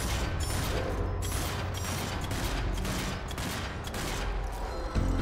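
Rapid, continuous gunfire from the video game Zombie Army 4: Dead War crackles in dense bursts, loud and close, with mechanical clicking mixed in throughout.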